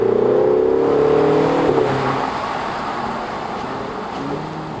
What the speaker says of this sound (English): sometimes the car just decides to downshift and then it's loud